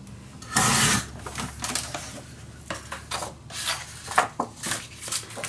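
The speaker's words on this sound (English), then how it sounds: "this was too short, so I'm just going to cut it down." A paper folio hinge being cut down to size, with a run of close, dry scraping and snipping sounds in uneven bursts and no talking.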